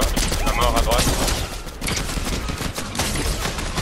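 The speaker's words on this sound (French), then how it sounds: "Oh, ça me tire dessus" Rapid bursts of gunfire crackle in the video game Fortnite, dense overlapping shots and impacts that run continuously, loud and close throughout with little pause.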